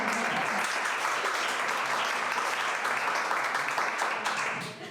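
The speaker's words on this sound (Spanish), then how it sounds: "Un aplauso para la profe." Sustained audience applause for a teacher, a dense wash of many hands clapping at steady loudness for several seconds, tapering slightly at the very end.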